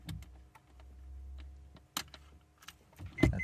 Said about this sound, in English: All you need to do is put your keys in the ignition so you can turn your wheel.